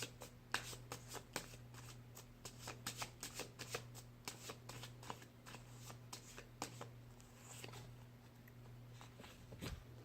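A deck of tarot cards is shuffled by hand, with quick, crisp riffles and flutters repeating in bursts, close and fairly quiet over a steady low hum.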